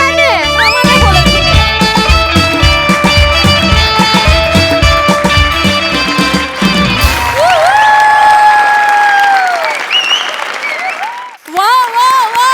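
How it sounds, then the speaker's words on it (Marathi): A studio audience at a Marathi comedy sketch show gives loud, sustained applause mixed with cheering, music and voices, then the clapping fades. "जोरदार टाळ्या"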